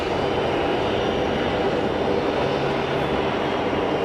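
A Bombardier CRJ 1000 airliner passes at Geneva Airport with a loud, steady jet engine roar that fills the whole stretch evenly, close and continuous, with no talking over it.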